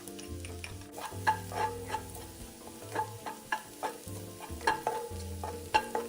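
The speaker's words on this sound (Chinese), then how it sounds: "30克蒜瓣剁碎后也加入爆香" Minced garlic fries with diced shiitake in shallot oil, a low sizzle punctuated by frequent rhythmic spatula taps and scrapes against the wok, close and clear over quiet background music, no voices.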